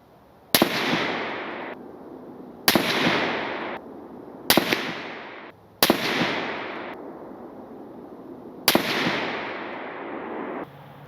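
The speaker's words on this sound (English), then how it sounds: "Then I removed the suppressor and fired 5 rounds, same ammunition, same distance" Five loud, sharp rifle shots fired without a suppressor, spaced irregularly a second or two apart, each a hard crack followed by a long echoing tail outdoors; no voices.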